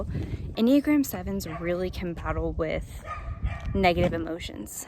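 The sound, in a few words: dog barking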